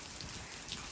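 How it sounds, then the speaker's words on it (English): Heavy rain pours down in strong winds, a steady dense hiss of falling water with no break, fairly faint and brief. "But right now the rain is just straight downpouring"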